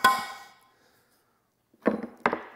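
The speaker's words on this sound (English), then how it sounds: "take a center punch and make sure you get this thing centered on that bolt" A hammer strikes a steel center punch set on a bolt: one ringing metallic clang that fades, then after a pause two sharper close taps, with no talk.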